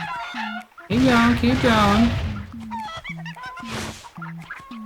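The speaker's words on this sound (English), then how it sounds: "No, you bloody chickens, go into these nitro boxes." Cartoonish chickens clucking in the video game Crash Twinsanity, repeated short clucks and squawks alongside game effects while someone talks over them.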